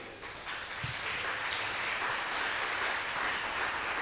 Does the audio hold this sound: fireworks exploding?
no